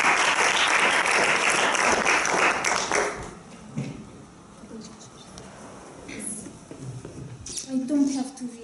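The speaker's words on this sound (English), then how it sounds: "Let's applaud." Audience applause at a meeting: dense, steady clapping for about three seconds, then a few scattered claps and voices talking as it dies away.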